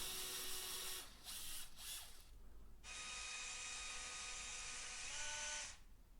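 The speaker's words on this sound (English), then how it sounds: "going in with a bigger drill bit, I drilled the main holes for the wall plugs" A power drill whirs in short bursts, then runs in one sustained high-pitched grind for about three seconds before stopping, drilling holes for wall plugs inside a cupboard.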